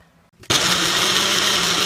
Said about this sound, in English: So I'm going to put it in the blender and mix it up.